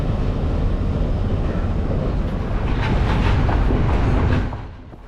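A Sri Lankan overnight sleeper train carrying passengers and freight rumbles loudly along the railway line near Colombo, a steady broad roar with faint rhythmic clatter that eases slightly at the end.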